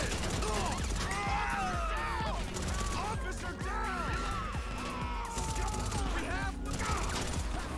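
Suppressed tactical SMG fire in GTA 5 Online, clattering bursts of muffled shots mixed with mechanical clicks and game effects, steady and busy throughout with a voice speaking over it.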